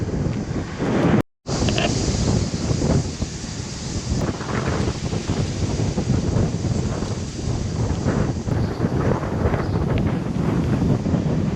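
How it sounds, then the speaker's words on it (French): Strong headwind buffets the microphone of a cyclist climbing uphill in a constant roaring rush, cutting out briefly near the start before resuming unbroken. "La montée avec le vent de face, c'est quelque chose"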